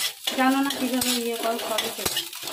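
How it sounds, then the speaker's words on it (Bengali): Beaten salted egg fries in a pan for scrambled-egg fried rice, with a close scraping stir, a brief tonal squeak and a couple of sharp utensil knocks over a sizzle. "এবার ডিমটাকে আমি ভেজে নেব, ডিমের ভুজিয়া বলে সেটা করে নেব"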